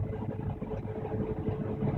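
A tractor pulling a grain cart during autonomous harvesting gives a steady, loud engine drone that rises slightly in speed, with rumbling low mechanical noise throughout.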